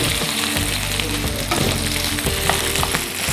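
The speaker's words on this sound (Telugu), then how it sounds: "ఈ టొమాటో వేసిన తర్వాత కొంచెం ఫ్రై చేసుకుందాం." Tomatoes frying in a pan for tomato upma give a steady, loud, close sizzle that runs unbroken throughout, with occasional scrapes and stirs over the hiss.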